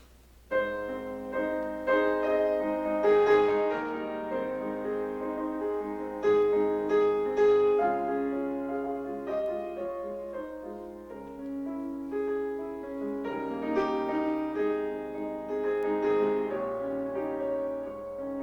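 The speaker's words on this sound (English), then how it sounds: "Transcribed that song into a solo piano piece." A solo piano plays a slow, flowing melody with sustained chords, clear and close, no voices.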